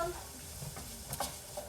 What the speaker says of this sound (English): I literally will just saute those in there for